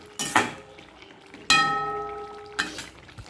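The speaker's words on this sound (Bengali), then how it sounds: "এই যে দেখো, সজনে ডাঁটার চচ্চড়ি হচ্ছে।" Clinks and scrapes of a spatula stirring sajne danta chorchori, a drumstick stem curry, in a cooking pan, three distinct metallic knocks with a faint ringing tone between them, no talking.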